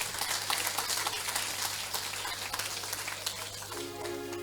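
Faint, steady applause from an audience at a Kingdom Embassy Youth gathering, a dense patter of many hands that carries on evenly throughout.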